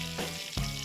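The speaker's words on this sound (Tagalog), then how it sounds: "naibaligtad na natin ng isang baligtad itong ating pinipritong dalag" A split snakehead fish (dalag) sizzles steadily in hot oil in a pan, a close, moderately quiet frying crackle with a brief stir or shift partway through.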